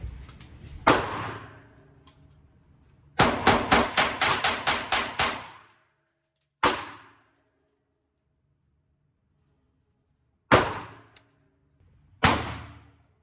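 Sharp gunshots from a compensated PSA Dagger Micro C-1 handgun fitted with an optic: a single shot, then a rapid string of about eight, then isolated shots with silent pauses between, loud and close.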